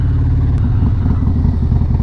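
Harley-Davidson Road Glide motorcycle engine idling close and loud, a deep, rhythmic low throb that stays steady.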